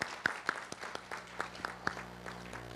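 An audience at a Hindi poetry gathering claps to welcome a poet, a sparse, scattered patter of individual claps at moderate distance, fairly quiet.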